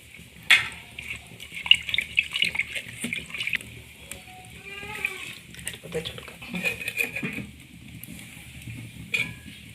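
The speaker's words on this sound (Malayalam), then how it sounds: "നമുക്ക് കുറച്ച് വെള്ളം കൂടി ചേർത്ത് കൊടുക്കാം അരച്ച വെള്ളം തന്നെ ചേർത്ത് കൊടുക്കുന്നുണ്ട്" Water, the liquid left from grinding the spice paste, is poured into a fish head curry made with ground green peppercorns, with splashing, stirring and a soft sizzle under a voice talking through much of it.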